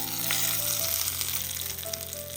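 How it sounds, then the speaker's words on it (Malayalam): A hot mustard seed tempering hits the dish with a loud, continuous sizzle and crackle that stays strong throughout, with faint stirring underneath and no one speaking. "കടുക് താളിച്ചത് ആ ചൂടോട് കൂടി തന്നെ ഇതിലേക്ക് അങ്ങ് ഒഴിച്ചു കൊടുക്കാം"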